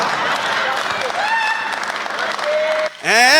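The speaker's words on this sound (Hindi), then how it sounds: "ताली बजा रहे हो" Audience clapping at a comedy poetry recital, dense applause under a speaking voice, cut by a sharp rising sound near the end.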